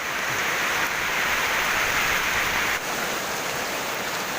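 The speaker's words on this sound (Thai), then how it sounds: "แต่ตอนนี้คือ คือฝนเนี่ยมันตกหนักมากนะครับ" Heavy rain pours onto plastic sheeting that covers vegetable seedlings, making a dense, steady hiss and patter that stays loud and unbroken throughout.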